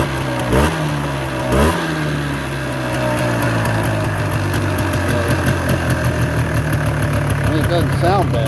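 A Polaris Sportsman 400 ATV with an untuned carburetor starts up and idles, a loud steady chugging engine with a couple of revving bursts early on, close by, while someone talks over it.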